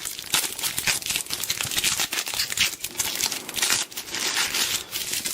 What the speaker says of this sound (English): This is particularly well wrapped, so much so that I can barely get into the thing. Let's just tear it off.